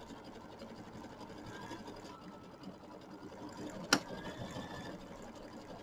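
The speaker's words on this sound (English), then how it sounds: "I love my machine that I can wind bobbins while I'm stitching." A sewing machine runs steadily, stitching quilt gnome blocks while winding a bobbin, a continuous close mechanical whir with one sharp click near the middle.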